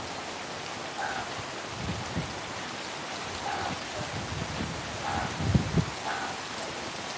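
Steady rain falls in a continuous hiss of droplets on surfaces, with occasional heavier patters close by and no voices.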